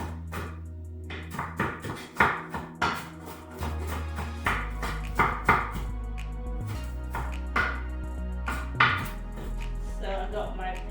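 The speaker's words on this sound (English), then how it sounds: "So I got my pepper chopped, onion." Pepper and onion chopped on a board for fried eggs, a string of close, sharp knife knocks in uneven bursts over a steady tonal background hum.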